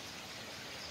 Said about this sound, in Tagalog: hindi tumila ang ulan, pumaha na naman